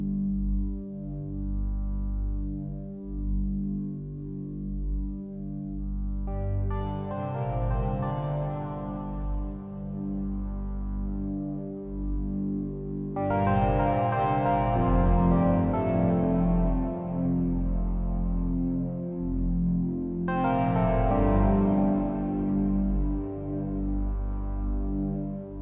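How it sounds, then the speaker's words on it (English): A sustained tone from a Hydra synthesizer swells in several times, each note ringing out into a long reverberant tail from an Ocean Machine reverb effect over a steady low drone. No voices. "I play one note so that you can hear the reverb completely."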